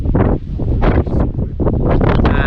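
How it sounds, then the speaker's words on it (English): Loud gusts of wind buffet the microphone in heavy, rumbling bursts, roaring continuously with short dips between blasts, on Moel Eilio in Wales. "it is crazy windy"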